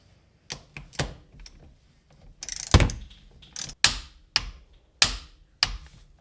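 A torque wrench tightens the steering wheel bolt on an Audi B5 S4/A4 to 50 newton metres, heard as a series of sharp, close mechanical clicks and thunks spaced irregularly, the later ones evenly spaced and crisp.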